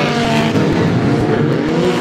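Reliant Robin banger race cars howl past at close range at Mildenhall, a loud, continuous engine snarl with rhythmic fluttering pulses through the short burst.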